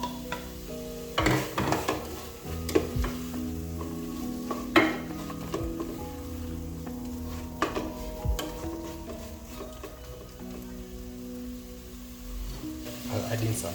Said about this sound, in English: I'll go in with my beef together with its juices.